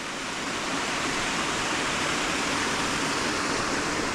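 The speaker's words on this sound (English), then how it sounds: "You can see the water coming down." Water cascades over rocks beside the Appalachian Trail, a steady, loud, unbroken rush of white noise with no voices over it.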